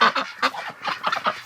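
Wintering ducks and geese on cold, snowy ground honk and call in a rapid, overlapping series of nasal cries, close and fairly loud.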